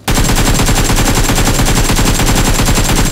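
Loud, unbroken automatic gunfire from an AKM in a video game hammers away at a vehicle's tire in a rapid, steady rhythm of close shots.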